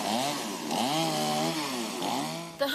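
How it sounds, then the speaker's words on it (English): Chainsaw cutting downed trees during tornado cleanup, a loud close two-stroke engine whining and revving up and down in sweeping pitch changes, ending with a sharp clunk. "The hum of chainsaws will be a familiar sound across Pine Tops this week as crews clean up downed trees."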